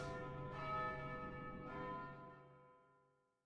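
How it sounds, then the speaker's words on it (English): Church bells toll in the video game Vagrant Story, two resonant strikes about a second apart, each ringing out and slowly fading into silence, clear and alone without talk. "The bells."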